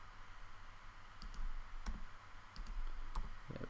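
Sharp mouse clicks, a few scattered across a few seconds, while an edge loop is selected in Blender during low-poly tree modelling; close, fairly quiet, over faint room hiss.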